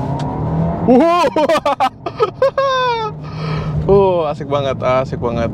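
A VW Tiguan Allspace with a six-speed dual-clutch automatic accelerating as the gas is pressed, its engine rising in the background while someone talks excitedly over it.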